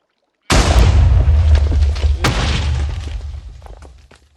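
A cannon on a Minecraft U.S.S. Dangeruss ship build fires with one loud, sudden boom, followed by a long rumbling tail that slowly fades over several seconds, with a few faint crackles inside it.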